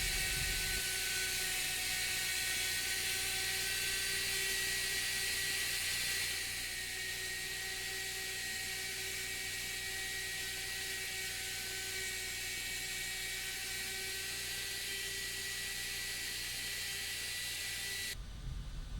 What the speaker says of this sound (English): Bit number 7503, a 1/4 inch radius point cutting roundover bit, is used to add small details to the top of the provincial plunge cut